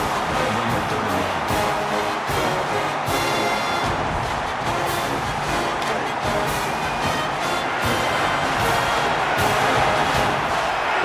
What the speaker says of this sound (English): The crowd at this stadium, always a factor in a football game.